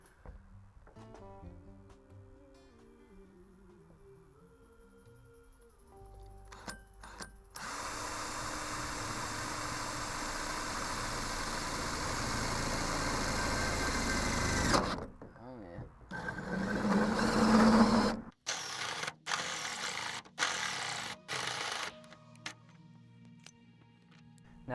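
Power tool cutting a hole through a cargo trailer wall for a 50 amp inlet: a loud, steady whining grind lasting several seconds, then rougher bursts as the cut finishes, with quieter handling noises and talk around it.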